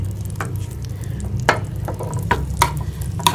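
Garlic paste sizzles in hot ghee as a tempering for mustard greens, giving a steady frying hiss broken by sharp clicks of stirring, close and without talk.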